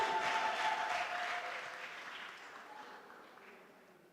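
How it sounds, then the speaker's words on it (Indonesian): Audience applause at a book day closing ceremony at a college, loud at first and then gradually fading away, following the announcement of a reading contest winner. "Iya, tepuk tangannya dong."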